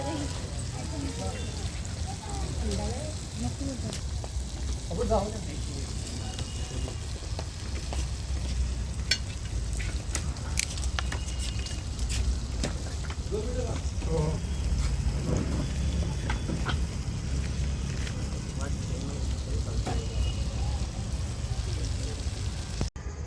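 Popti cooks alongside kaul being fried outdoors in a village, a constant crackling sizzle with scattered pops, heard close under intermittent talk from people nearby.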